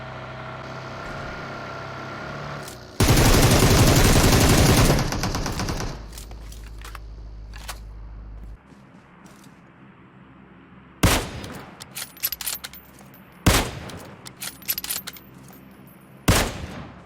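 Gunfire in PUBG Mobile: a loud sustained burst of automatic fire, then an engine drone, followed by several sharp separated shots with quiet gaps between them.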